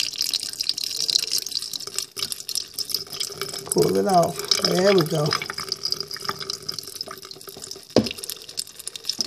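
Chitterlings rinsed under a running kitchen tap, a steady close hiss of water with light splashing and drips throughout, while a person talks over it.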